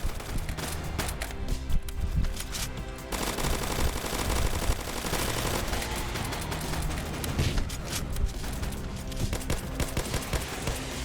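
Rapid bursts of automatic gunfire mixed with explosions and dense game-style effects in the Roblox zombie game Zombie Uprising, loud and relentless throughout.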